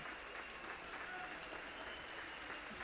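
A college basketball crowd at a Carroll versus Lewis-Clark State men's game applauds a fouled-out player leaving the court, giving steady, even clapping that fills the arena at a moderate distance.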